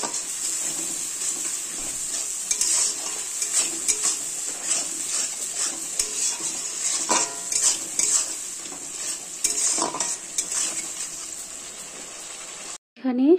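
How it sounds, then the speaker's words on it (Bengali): Salt and turmeric being stirred through fish oil in a hot pan, a steady sizzle with scraping spoon-against-pan strokes running continuously throughout. "এখানে সব কিছু বেশ কিছুক্ষণ একটু নাড়াচাড়া করে নিয়েছি"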